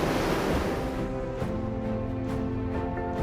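Ocean surf rolls onto Hanakapi Beach, which has no protective reef, as a loud, continuous wash of breaking waves with a low rumble underneath and no voices.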